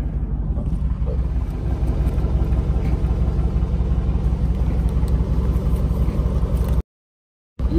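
A 2019 car with its muffler deleted idles with a loud, steady low rumble from the open exhaust, close and continuous, with a brief dropout near the end.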